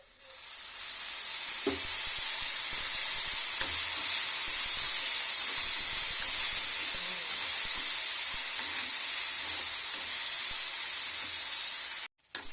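Loud, continuous hiss of frying in hot oil for a chutney, with faint stirring knocks underneath, holding steady for about twelve seconds before a brief break near the end.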